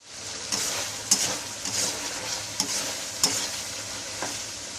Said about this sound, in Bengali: ভালো রকম কষা নেওয়া গেছে বেগুন